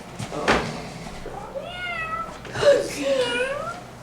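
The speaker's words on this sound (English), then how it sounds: "Look at this cat." A domestic cat meows several times, its rising and falling calls clear in the middle of the clip while people talk around it in a room.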